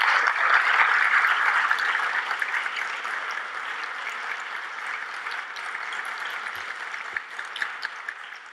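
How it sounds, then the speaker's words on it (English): An audience applauds the fourth-place winners, the Cayman Islands, at a Caribbean Tourism Organization awards presentation, a steady dense clapping that starts strong and slowly tapers off. "give a really great, wonderful round of applause to the 4th place winners"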